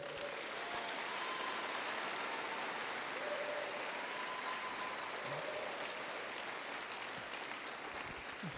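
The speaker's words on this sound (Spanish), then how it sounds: "Dale un aplauso fuerte al Señor." Congregation applauding at a Spanish-language church service, a steady, dense wash of clapping held at an even level throughout, with faint background hum.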